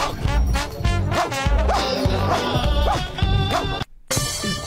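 Dog barking in a short social clip, a rapid run of loud yips and bow-wows close to the microphone with a brief cut of silence near the end.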